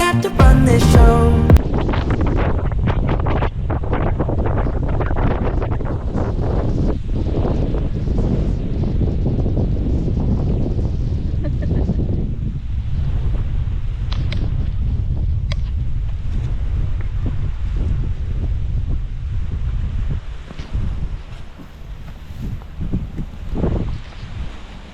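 Strong wind buffets the microphone on the beach at Nagsasa cove, a loud continuous low roar with gusts rising and falling throughout and no voices.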